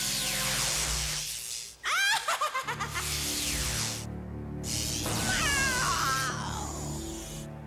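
A cartoon cat meowing and yowling in a French-dubbed Mighty Morphin Power Rangers episode, with drawn-out wavering cries and a stuttering series of rapid vocal bursts, loud and close over background music and effects.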